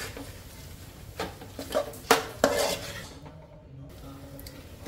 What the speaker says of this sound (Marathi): छान मिक्स करून घेते